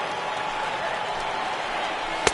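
Large stadium crowd of over 37,000 in MLB 18 The Show, Angels at Seattle, rising in a steady broad roar of cheering throughout, with a sharp crack near the end.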